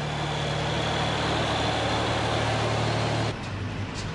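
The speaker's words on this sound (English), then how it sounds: "The sound of powerful engines thundering past is becoming a common occurrence lately for local people." Heavy engines of a military convoy carrying large missile launchers rumble loudly and steadily past, a deep constant drone that drops slightly in level near the end.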